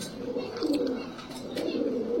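Pigeons kept for breeding coo softly in a loose, low murmuring rhythm, a couple of swelling phrases over a steady hum of background noise, fairly faint with no one speaking.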